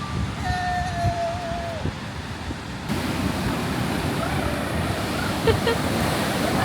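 Waves wash continuously onto a beach at Padstow, Cornwall, in a broad rushing roar, with a faint whistle-like tone and light wind noise early on.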